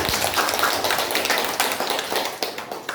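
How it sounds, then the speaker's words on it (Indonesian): A small group, likely students in a Quran recitation class, claps for Pak Ramadan in a short uneven patter, a moderately close spattering of hands that thins toward the end. "tepuk tangan Pak Ramadan"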